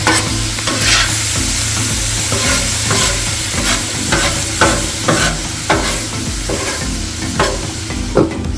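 Onions browning and caramelizing in a pan while being prepared for skirt steak sliders, a steady close sizzle with a low hum beneath and repeated stirring scrapes and clicks throughout, no voices.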